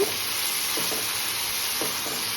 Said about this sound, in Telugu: అలసందలు ఫ్రై చేస్తున్నాను.